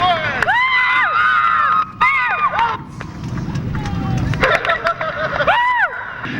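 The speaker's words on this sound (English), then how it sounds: "How about a big round of applause?" A crowd cheering and shouting at a stock car race at Riverside Park Speedway, with excited whoops and high-pitched yells, loud and lively, mixed with general babble and some movement noise.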